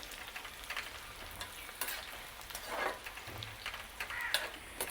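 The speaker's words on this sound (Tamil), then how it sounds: "நாங்கள் இந்த வெங்காயம் உள்ளி கருவேப்பிலை எல்லாமே பொரிஞ்சு வந்துடுது" Onion, garlic and curry leaves fry quietly in a pan for a bitter gourd curry, a soft crackling sizzle with scattered ticks and light taps of stirring, faint and close, no voices.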